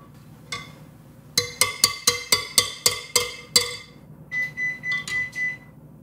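A kitchen oven signals that preheating is done with a run of eight sharp electronic beeps in steady rhythm, then a few softer, longer tones, close and clear with no talk.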